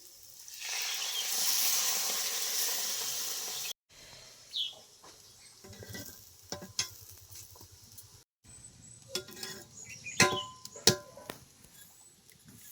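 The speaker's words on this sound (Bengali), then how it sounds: "তেলও দিয়ে দিলাম, দুধটা দিয়ে দিচ্ছি।" Milk poured into a hot pan of carrots and oil for semolina halwa, giving a loud hissing sizzle for about three seconds, then quieter bubbling and scattered clinks of cooking.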